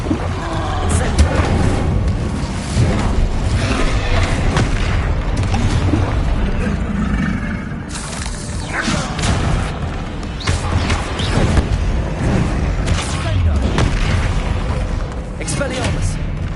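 Spells including Incendio are cast in Hogwarts Legacy on PS5: repeated loud booming blasts and crashing impacts in dense succession, with shouted incantations over the din.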